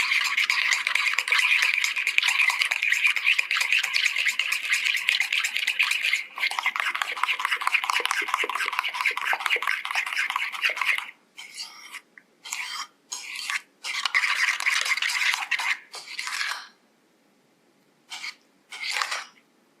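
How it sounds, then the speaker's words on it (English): A spoon scrapes and stirs briskly in a bowl, mixing mustard sauce and tomato ketchup into a smooth sauce, close and steady at first, then breaking into short separate strokes with pauses. "thoroughly mix well until the sauce is smooth and silky"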